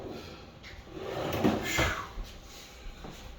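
Cabinet drawer fronts being fitted during a rental repair, with a few soft wooden knocks and a brief scrape at close range, set against a low room hum.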